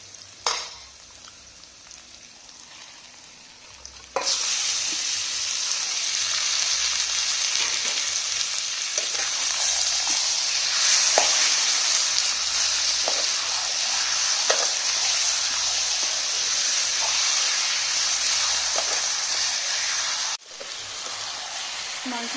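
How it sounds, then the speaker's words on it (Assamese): Marinated duck pieces fry loudly in a pan over browned onions, a steady close sizzle running without a break for about sixteen seconds, with a few sharp stirring clicks, then dropping back to a quiet kitchen hum. "মাংসখিনি এতিয়া ভালকে ভাজি ল'ম"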